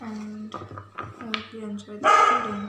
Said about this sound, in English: I'm sorry, that's my dog. There's a cat outside and she barks.